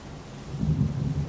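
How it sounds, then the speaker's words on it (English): Thunder with pouring rain in the video game Heavy Rain, a low rumbling swell that builds midway over a steady rain wash, brief and moderately loud with no voices. "It's pouring rain."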